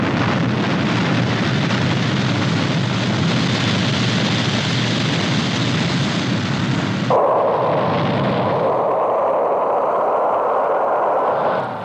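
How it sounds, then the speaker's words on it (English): Rocket launch effect from the Stingray puppet series: a loud, sustained roaring blast that abruptly shifts to a thinner, fading rush of exhaust. "The mighty rocket was launched on schedule."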